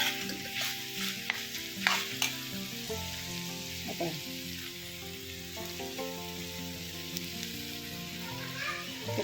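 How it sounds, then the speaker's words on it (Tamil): Grated coconut sautéed in a pan, a soft continuous sizzle with repeated spatula scrapes and taps, while faint music or tonal background runs underneath. "இந்த தேங்காயில் உள்ள அந்த ஒரு ஈரப்பதம் போகிற வரைக்கும் இதை நல்லா வதக்கி விட்டுட்டுங்க"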